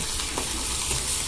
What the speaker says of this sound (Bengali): পেস্টেজ ভাজিচ্ছি, আদা পিসা দিচ্ছি, দিয়ে মশলাটা কষে নেব ভালো করে